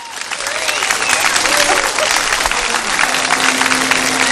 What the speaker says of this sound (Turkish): kocaman alkışlarımız Emrah için.